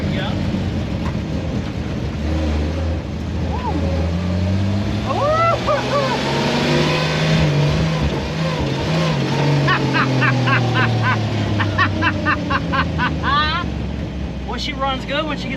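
A 1954 Chevy engine idles roughly, then revs and climbs as it gets more gas, a deep rumbling run that rises and falls, with someone talking over it near the end.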